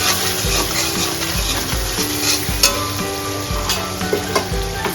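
Chopped tomato hits a pan over a high gas flame for paneer butter masala, sizzling loudly and crackling close up, with rhythmic stirring scrapes throughout and no voices.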